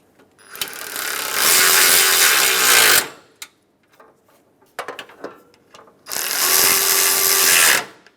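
A power tool whirs in two sustained, loud bursts of about two seconds each, driving the top radiator bolts back into a 2007-2013 Acura MDX, with clicks and clanks of handling between the runs.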